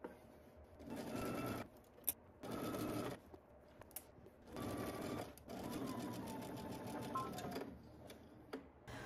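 A sewing machine stitches a bodice seam with a 5/8-inch seam allowance in several close, loud bursts of rapid needle whir separated by short pauses.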